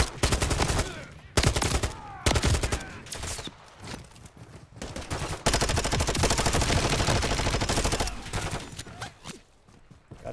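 Enemy gunfire in Call of Duty Modern Warfare 3, with loud bursts of rapid automatic weapon fire in several stretches separated by brief quieter gaps, close and harsh, with no voice.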